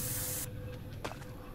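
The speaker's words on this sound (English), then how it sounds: "I've always wanted to spray paint my name on a wall" Spray paint can hissing onto a wall in a horror video game, one bright sustained burst that cuts off abruptly early on, followed by faint low rumble and a couple of soft clicks.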